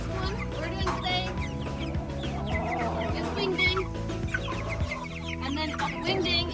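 Chickens cluck steadily at close range in a coop enclosure while their wings are being clipped, a dense continuous chorus with occasional louder squawks.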